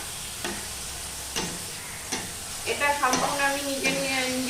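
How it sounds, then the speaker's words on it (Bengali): Banana flower bharta (mocha bharta) stirred in a frying pan, giving a steady sizzle with several scraping strokes of the spoon that grow busier toward the end. "সামান্য নেড়ে নেড়ে এইটা ভর্তাটা করবো"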